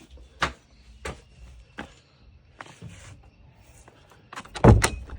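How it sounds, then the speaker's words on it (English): An interior door is shut at the end of a home project under a low ceiling, giving a loud, close thud after scattered handling noises and shuffling. "Close the door."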